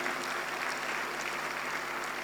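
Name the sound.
audience applause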